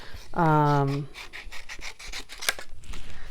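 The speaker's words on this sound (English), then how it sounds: "it cuts out really easy with the scissors" Scissors cutting out a stamped paper polar bear, a series of close, crisp snipping and rasping strokes after a brief voiced sound at the start.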